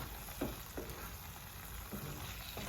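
Eggs being stirred into masala frying in a pan, a faint steady sizzle with a few soft scraping stirs, quiet and close.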